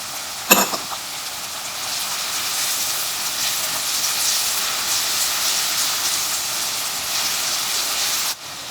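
Ginger, garlic and crushed asafoetida sauté in a hot pan with a steady, close sizzling hiss, a sharp crackle at the start and a sudden dip near the end.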